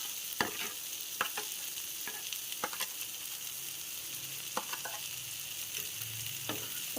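Egg being stirred and fried in a pan for egg chaat gives a soft continuous hiss of frying, punctuated by sharp, irregular spoon clicks and scrapes against the pan, close and without voices.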